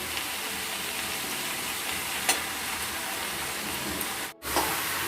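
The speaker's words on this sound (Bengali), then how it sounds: "এরপরে আমরা দিয়ে দিব ধুয়ে রাখা মাংসগুলো" Washed pieces of country chicken sizzling in a pan as they cook, a steady broad hiss of frying throughout, fairly quiet, with a brief break and a small clink near the end.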